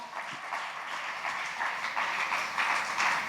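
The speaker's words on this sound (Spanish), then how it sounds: "dele un aplauso al Señor" Church congregation applauding together, a dense, steady wash of clapping that swells slightly toward the end, moderately loud and without voices over it.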